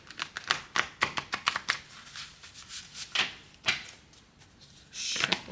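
A deck of reading cards is shuffled close by in quick bursts of rapid riffling and slapping, with short pauses between rounds and no voices.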